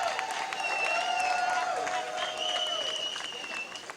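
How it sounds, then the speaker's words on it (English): A crowd at a National Action Network gathering in Brooklyn applauds the coalition, with dense continuous clapping and long sustained cheering tones over it, fading slightly at the end. "Let's give a big round of applause to the coalition"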